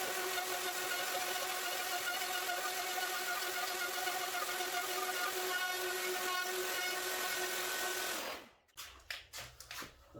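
A router in a Tidy Tradie jig cutting a euro lock mortise for an AGB magnetic lock in a door, a loud high-pitched steady whine for about eight seconds, then winding down and stopping, followed by a few handling knocks.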